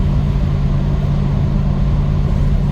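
A 1955 Chevrolet Bel Air transmission with worn gears, the case hardening coming off, gives a steady mechanical drone and hum, loud and continuous throughout, with no talk over it.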